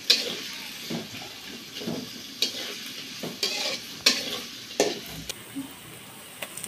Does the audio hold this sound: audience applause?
no